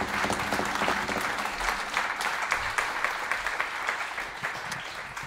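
Warm applause greets a musician taking the stage at a live jazz concert at the Bimhuis in Amsterdam, a full, steady crowd clapping that continues evenly without speech.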